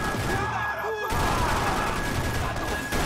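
Gunshots fire in Max Payne 3 as a dense rattling volley of shots over game noise, with a sharp break partway through.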